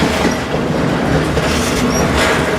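A freight train carrying wind turbine parts rolls along tracks across open Wyoming country. The steady, loud rumble comes with faint wheel squeals and rhythmic rail clatter, heard from on board, with no talking.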